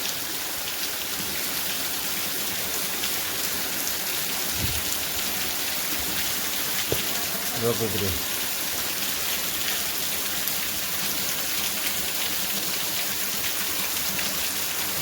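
Heavy rain pours steadily and loudly throughout, a dense continuous hiss of falling water with a few brief low thuds partway through, and no talking over it.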